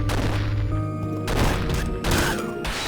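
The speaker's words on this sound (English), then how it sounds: "I'll take rocket jump because it makes a cool explosion." Explosions and gunfire from a rocket jump in the video game Quake Champions: a dense, continuous barrage of loud blasts and booms layered over game sound, with no talk.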